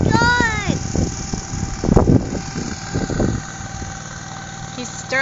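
Low engine rumble of a cranberry harvester churning berries up from the bottom of a flooded bog, steady and close, with excited voices talking over it and a few splashy bursts midway.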